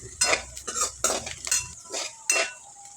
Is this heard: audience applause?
no